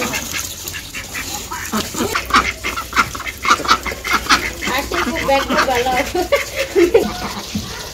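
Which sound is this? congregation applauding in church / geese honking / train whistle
geese honking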